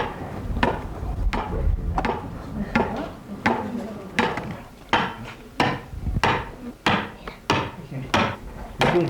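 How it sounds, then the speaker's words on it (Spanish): An axe chops a wooden log to rough out the faces of a handmade ox yoke, about a dozen sharp, woody blows close up in a steady, uneven rhythm with brief pauses between them. "picar el tronco con el hacha hasta dejar el volumen de la pieza"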